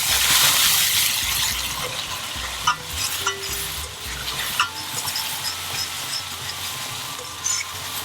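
Garam masala, black cumin, Kashmiri chilli powder and cardamom seeds being stirred in a hot pan for Kashmiri kadai paneer masala, giving a steady sizzle with repeated scraping of a spoon, close and fairly loud, with no one talking.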